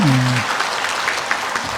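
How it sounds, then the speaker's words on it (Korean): A church congregation claps briefly for the choir during a Sunday service, a short burst of applause after a voice, fading quickly. "우리 다시 한번 박수로 격려하실까요?"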